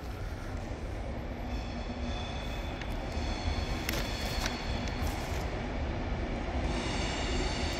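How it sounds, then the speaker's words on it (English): A Class 390 Pendolino rolls into Carlisle station, a steady low rumble of wheels and traction with faint squeals and rattles, constant and fairly distant. "Ooh, we've got a Pendolino coming in."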